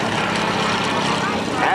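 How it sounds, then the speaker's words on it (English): A propeller-driven AT6 Texan trainer flies past at the Sussex County airshow, its engine a loud, steady, buzzing drone filling the whole moment, with a voice talking over it. "Now, listen to the sound of this airplane as it comes by."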